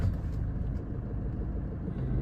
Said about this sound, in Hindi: तो ये देखो अभी गाड़ी को ऑन करता हूँ मैं